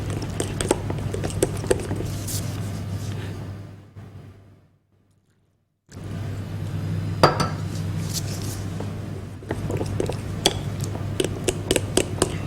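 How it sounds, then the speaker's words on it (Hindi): Ingredients stirred in a dish for an iftar recipe: a spoon repeatedly scrapes and clinks against the bowl in close, uneven strokes, pausing briefly to silence midway before resuming. "अच्छा सा आपने इसको मिक्स करना है।"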